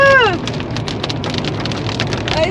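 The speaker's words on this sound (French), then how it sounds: "Il pleut!" Rain pours in a dense, steady patter during a road trip, fairly loud, with a brief rising tone at the start and no talk.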